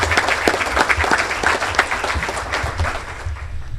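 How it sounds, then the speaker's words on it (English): Audience at a Kiwanis gathering applauds in a steady, fairly close burst of clapping, dense and even for a few seconds before easing off slightly. "John, you deserve a round of applause"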